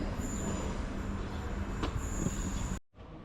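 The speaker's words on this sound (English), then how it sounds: "In comes the 11:21 Northern service to Manchester Airport." A Northern passenger train pulls into platform 3 at Bolton station on the service to Manchester Airport, a steady loud rumble of wheels and carriages with a faint wheel squeal, cutting off abruptly near the end.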